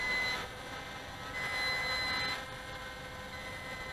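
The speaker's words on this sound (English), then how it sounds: "So there you go, descending, and there's a beep going on." Low-battery warning beeps from a HolyStone HS720E drone as it descends to land, two short steady electronic tones sounding over continuous broadband rotor whir.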